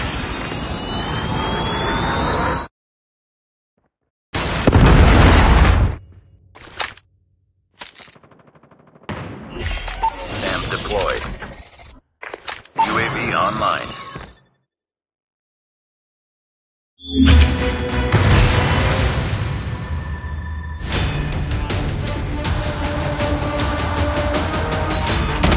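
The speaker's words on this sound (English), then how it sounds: "Predator missile inbound." Predator missile strike in the video game Call of Duty, heard as loud bursts of explosive gunfire-like crackle broken by silent gaps, ending in a long, sustained roaring blast with ringing debris.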